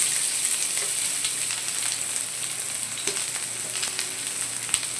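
Chopped onion, crushed garlic and curry leaves fry in hot oil, giving a steady, close, bright sizzle with light crackles throughout and no voices.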